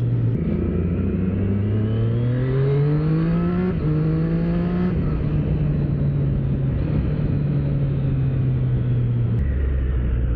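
A 2025 Triumph Street Triple RS motorcycle engine revs up through rising pitch, then settles into a loud, steady drone close by before the note drops near the end.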